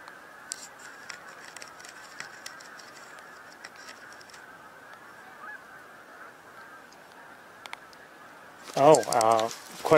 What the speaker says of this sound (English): Oh, quite a few geese.